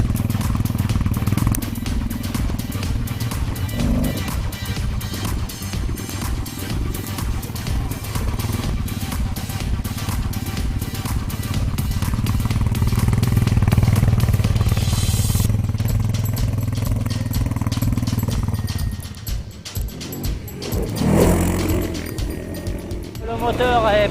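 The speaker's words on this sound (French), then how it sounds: "Le moteur est relativement souple et coûteux. C'est pas un monstre de puissance. Là, j'accélère un peu." The engine of a 2016 Kymco MXU 700 EPS ATV runs steadily at a low, throbbing idle, then rises briefly as it accelerates, with someone talking over it throughout.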